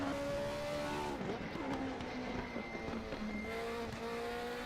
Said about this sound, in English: So you hear the V8 of Jeff's car, much different engine note than the V6